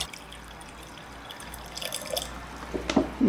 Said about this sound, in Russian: то есть надо еще 250 грамм водички добавить